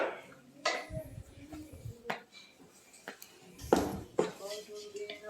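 A spoon stirring ghee into a cluster bean curry in a pot at an outdoor clay stove, with intermittent metallic scrapes and clinks at close range.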